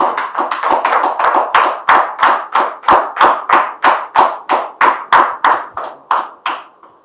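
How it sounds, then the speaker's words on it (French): Rhythmic clapping welcoming a guest on a studio talk show, evenly spaced sharp claps in a steady beat, close and loud, fading at the end. "Merci de recevoir dame assise sous vos applaudissements"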